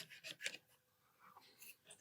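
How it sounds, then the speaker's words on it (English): Sandpaper rubs along a seam on a 30-inch Tantive IV model, making quiet, short rasping strokes in quick bursts close to the microphone. "So I'm just basically kind of sanding this seam a little bit down just so it's nice and flush"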